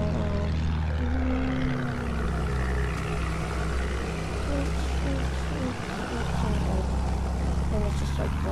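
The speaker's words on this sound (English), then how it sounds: "Right now we're just flying a plane right now." A propeller plane flies in the Battlefield 1 video game, giving a loud, steady engine drone with a whining pitch that shifts throughout, while a person talks over it.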